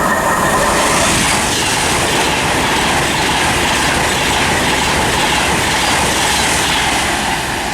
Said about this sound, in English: passing through, we've got a Virgin train service.